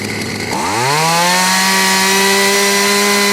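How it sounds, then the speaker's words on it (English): A retro Husqvarna 40 chainsaw revs up from a lower idle into a loud, steady high-pitched whine, running close and continuously with no voices. "I just filmed some cutting with the beautiful Husqvarna 40 chainsaw"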